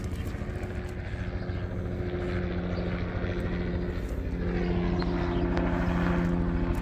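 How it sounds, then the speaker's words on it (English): A news helicopter flies overhead on a walk outdoors, its steady rotor and engine drone droning continuously at moderate distance, growing slightly louder toward the end. "What's a helicopter doing?"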